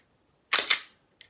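A Glock pistol trigger, fitted with an upgrade, is dry-fired up close: two sharp mechanical clicks in quick succession, then a faint, brief click a moment later, with silence around them.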